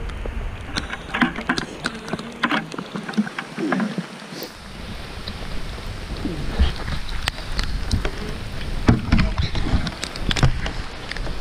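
Steady rain falls outdoors in a mountain setting, a dense, close hiss of drops with scattered louder taps and handling knocks throughout.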